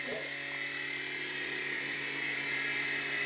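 An OPAL RC mini helicopter flies nearby with a steady high-pitched whine from its small rotor motor, holding level throughout at moderate loudness.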